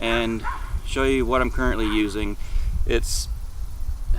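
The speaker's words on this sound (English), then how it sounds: "apologize for my dog barking in the background if you can hear that" A dog barks repeatedly in the background at a house in hot Texas summer weather, sharp yips and bow-wows in several bursts over about two seconds under a person talking.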